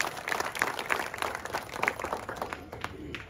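Moderate crowd applause for a minister at an outdoor political gathering in a ward street, a steady mix of scattered claps lasting a few seconds without voices on top.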